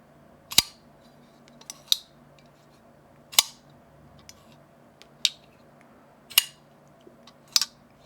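A Brown Knives folding knife snaps open and shut several times, each action a sharp, crisp metallic click with short pauses between, heard close and clear with no talk.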